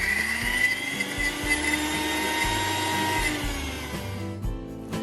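A mixer grinder runs steadily, grinding soaked dal into a coarse paste for parippu vada, with a dense motor whine and churning rattle that cuts off abruptly near the end.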